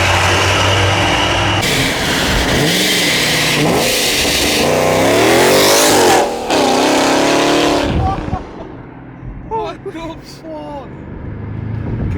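Blacked-out BMW M5 revving hard and loud up close, the engine rising and falling through several sweeps before dropping to a rough idle, with a voice talking over the later part.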